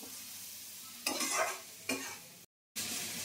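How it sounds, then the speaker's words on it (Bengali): Masala spices fry in a pan while a utensil stirs and scrapes through them, bursts of louder sizzling and scraping over a low steady fry, with a brief silent gap near the end. "দিয়ে ভালো করে মশলাটাকে কষে নিই"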